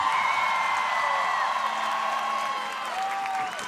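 A crowd at an outdoor concert on the Grand Place in Brussels applauds and cheers for a performer, with a dense roar of clapping and sustained whoops carrying throughout.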